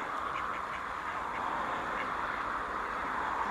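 Several ducks quack softly in the distance, scattered calls over a steady background hum of outdoor ambience.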